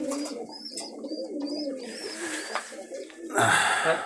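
Rolling pigeons kept inside a room coo in soft, repeated low calls, close by and fairly steady, with a burst of louder rustling noise near the end.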